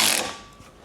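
An 18 mm wrench cinches a nut onto a ball joint stud in a car's front suspension, a quick close ratcheting burst that fades into quiet.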